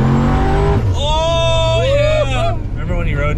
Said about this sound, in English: Marauder's quiet while you're cruising